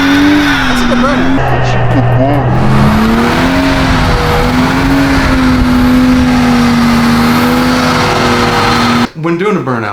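Car doing a tyre burnout, the engine held at a loud, steady high rev with a sustained tyre squeal, close and dominant for nearly the whole stretch before cutting off abruptly.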